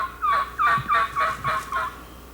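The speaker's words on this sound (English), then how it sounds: "you can hear the gobblers" A rapid burst of gobbling from wild turkey gobblers across a field in spring, a rolling series of about six throaty pulses, moderately distant across open ground.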